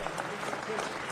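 Brief, soft applause from people at a city council meeting as council staff are thanked, a dense, steady wash of claps that sounds distant and fairly faint.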